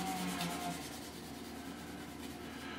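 Strips of ordinary kitchen towel rub steadily over a finish, a soft continuous scrubbing and swishing close by with no voices.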